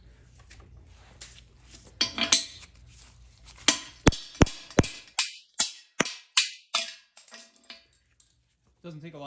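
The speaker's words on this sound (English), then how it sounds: "now we're going to drive out the case bushing" Sharp metallic hammer blows drive a bushing out of a GM 4L60E transmission case, starting as light taps, then a run of about a dozen loud, evenly spaced strikes before falling silent.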